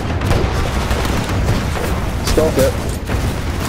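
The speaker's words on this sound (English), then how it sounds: "Quite a few shooting at me." Dense enemy gunfire and explosive booms from a firefight in the shooter game Titanfall 2, a loud continuous barrage with sharp cracks, while someone talks over it.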